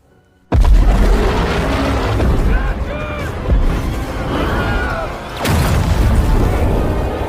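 Loud, sustained roar of explosions and gunfire bursts against a giant stone troll in the film Troll (2022), starting abruptly, dipping midway, then surging again, with faint voices underneath.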